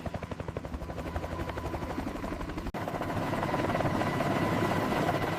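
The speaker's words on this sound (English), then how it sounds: "With a surge of power, the helicopter transitions from the ground to controlled flight" An AH-64 Apache helicopter lifts off, its rotor blades chopping in a fast regular beat that swells louder and denser halfway through as power surges, close and steady with no voices.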